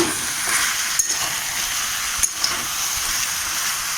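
Crab curry sizzles and fries in a pan, with a steady, loud hiss and a few brief clinks of the stirring utensil against the metal.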